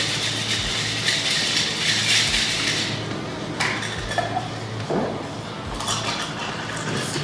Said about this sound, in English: I put it in the shaker and I stir it.